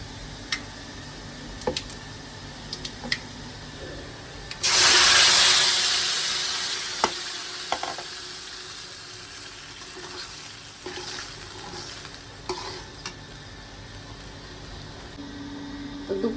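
Liquid is poured into a hot pan while cooking prawn pithali, a burst of steamy hiss rising sharply then fading, followed by scattered ticks and clinks of stirring against the pan.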